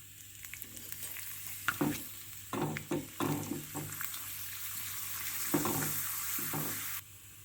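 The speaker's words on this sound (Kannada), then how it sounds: "ಹಪ್ಪಳನ ಕರಿತಾ ಇದ್ದೀನಿ ನೋಡಿ" Papad crackling and sizzling in hot oil, with several sharp bursts of spatter and stirring scrapes over a steady fry, close by and without speech.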